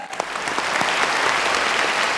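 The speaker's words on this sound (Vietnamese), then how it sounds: "vỗ tay cho người quay đầu tiên" Audience applause for the first contestant at a comedy show's spinning-wheel game, rising quickly into steady, dense clapping.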